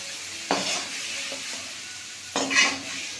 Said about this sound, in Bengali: চিংড়ি মাছটা হালকা করে আমি একটু ভেজে নেবো